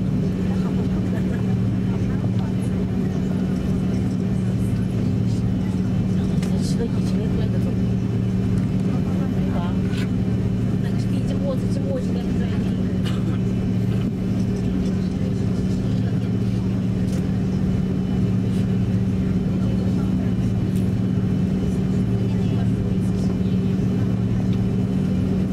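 A Cathay Pacific airliner taking off from Hong Kong International Airport at night, heard from inside the cabin as a steady, loud engine roar and drone that holds constant throughout, with faint talk beneath it.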